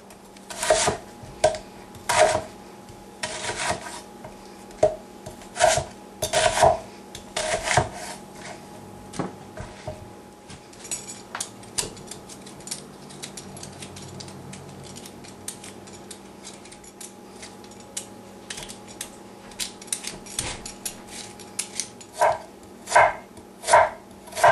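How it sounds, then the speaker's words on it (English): Knife chopping pork meat into bite-sized pieces for pork sinigang, irregular clusters of sharp cuts and thuds on a board, with some scraping and rubbing between bursts, fairly close. "cut your pork meat into bite-sized pieces"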